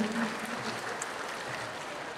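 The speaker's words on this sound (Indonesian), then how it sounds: "Mana tepuk tangannya untuk Bapak Presiden ini?" An audience at an Indonesian government speech on village cooperatives applauds the President with steady, dense clapping that fills the room without pause.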